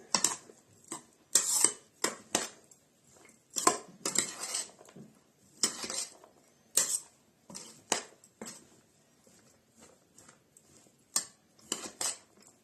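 Spoon clinking and scraping against a bowl while okroshka, a cold soup, is stirred, in irregular bursts of close metallic knocks with short pauses.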